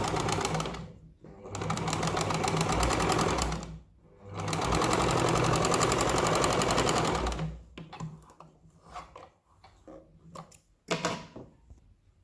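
A sewing machine stitches kurti fabric in two long, loud, steady runs of rapid needle chatter with a short pause between, then quieter handling clicks and bumps close by.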